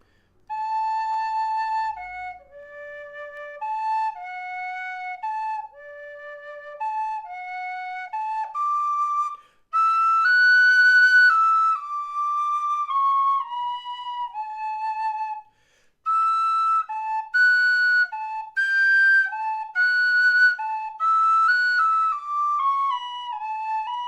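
A tin whistle played in its high register as a tone exercise, clear sustained notes stepping up and down in phrases separated by short pauses, bright and close with breathy edges.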